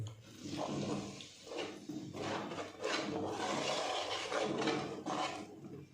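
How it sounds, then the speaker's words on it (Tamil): Water sloshing and splashing in a pan of egg curry as it is stirred, with uneven swishes and scraping, close by and moderately quiet. "தண்ணி சேர்த்து நல்லா மிக்ஸ் பண்ணி கொதிக்க விடுவோம்."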